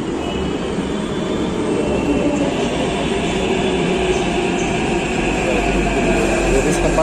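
A Hyderabad metro train rumbles with a steady low drone and faint wheel squeal, heard from inside or beside the carriage, close and continuous, with people talking over it.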